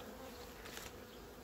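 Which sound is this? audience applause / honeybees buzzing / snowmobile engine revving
honeybees buzzing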